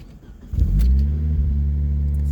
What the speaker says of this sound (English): Let's get a little cold start here.